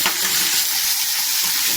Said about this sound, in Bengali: তেলটা হয়ে গেছে, আমি ইলিশ মাছের মাথাগুলো ঢেলে দেওয়া হলো